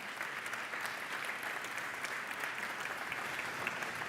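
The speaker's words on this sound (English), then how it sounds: "Your applause, please, for the one and only Nicholas Leeder" Steady audience applause at an industry summit, a continuous even wash of many hands clapping in a conference venue, moderately loud with no voices over it.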